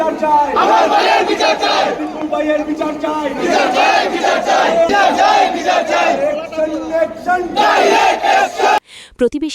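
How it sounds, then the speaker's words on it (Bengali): A large street crowd at a protest rally in Silchar chants slogans against the Bangladesh government, loud and close, voices rising in rhythmic repeated bursts throughout before a sudden cut near the end. "গোলদিঘি মলের সামনে অনুষ্ঠিত বিক্ষোভ সমাবেশে বাংলাদেশ সরকারের বিরুদ্ধে স্লোগান ওঠে"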